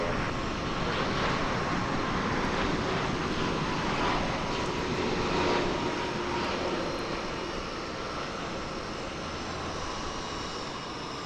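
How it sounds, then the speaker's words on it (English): Steady roar of an Airbus A300's jet engines at DFW Airport, broad and even, gradually easing in loudness as they spool down at shutdown, with no voices. "You can hear the A300 settling in there as its engines are shut down"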